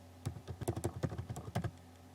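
Quick bursts of keystrokes on a computer keyboard as a search keyword is typed, about a dozen close, light clicks in an uneven rhythm over a faint steady hum, with no voices.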